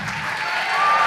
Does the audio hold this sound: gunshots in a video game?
no